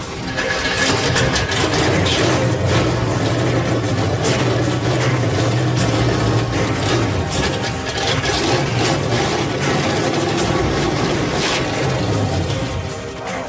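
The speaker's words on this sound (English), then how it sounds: "Thank God the engine started. Hooked up, fires, done." A 1972 Oldsmobile Cutlass engine turns over and settles into a steady, loud rumbling idle with a low droning tone, running continuously throughout with busy background noise around it.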